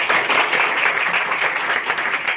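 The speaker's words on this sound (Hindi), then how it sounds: "चलिए जोरदार ताली बजाइए एक बार।" An audience at a cyber fraud awareness program claps and applauds steadily and loudly throughout, with no break in the sound.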